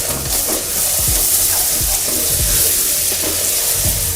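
Methi leaves and chili powder fry in hot oil in a pan. A dense, continuous sizzle crackles throughout, with occasional low clatters from stirring.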